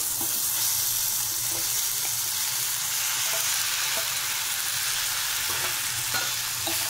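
Onions browned golden with chopped tomatoes added, sautéing in a pan for tomato curry; a steady, close sizzle with faint stirring scrapes continues alone throughout.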